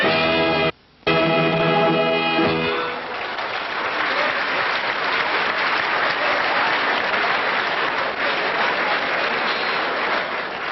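A theatre audience at a 1981 stage show bursts into sustained, dense applause that fills the room for several seconds, following an opening stretch of music.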